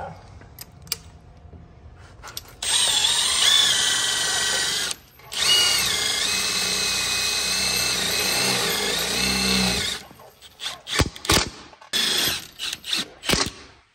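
A power drill drives self-tapping screws into a full skid plate on a CFMOTO ZFORCE 950 H.O. EX, with two long, loud whirring runs followed by a series of shorter bursts and clicks.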